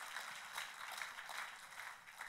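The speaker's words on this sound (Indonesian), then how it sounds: "Oh, tepuk tangannya yang paling meriah." Sustained applause from a church congregation fills the space, a dense even patter of many hands clapping at moderate volume with no voices over it.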